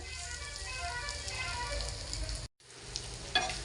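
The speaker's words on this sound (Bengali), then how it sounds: "হালকা করে ভেজে নেব।" Paneer frying gently in a pan, a steady soft sizzle with light crackle, close and quiet, broken by a brief silent gap before the sizzle resumes.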